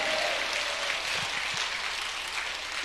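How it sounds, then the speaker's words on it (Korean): A church congregation claps steadily together, a dense, even patter of many hands that holds for a few seconds without pause. "크게 예수님께 감사의 박수 올려드립시다."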